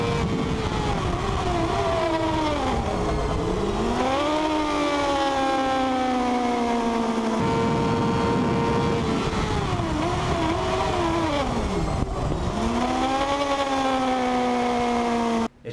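Motorcycle engine revs falling in stepped drops as the rider downshifts under hard braking on a straight, with engine braking against the rear wheel; a loud, close drone whose pitch sweeps down, picks up, then sinks again across the stretch, with no voices.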